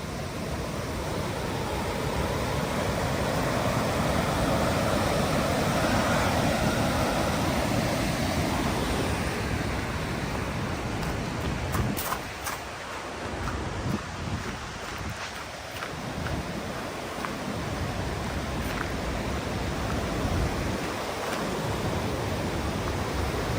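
Continuous roar of a river by Falls Creek in Milford Sound, New Zealand, loud and steady rushing water with wind buffeting the microphone at times, no one talking.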